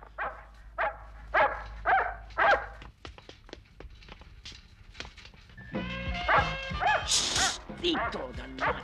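A small dog barks repeatedly in short yapping bursts, close and loud, then whimpers and yips; someone shouts at it over the barking in an Italian drama scene.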